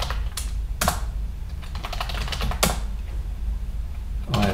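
Keystrokes on a computer keyboard while logging in to a Linux virtual machine in VirtualBox, a few scattered clicks and short bursts of typing over a steady low hum, close and fairly quiet.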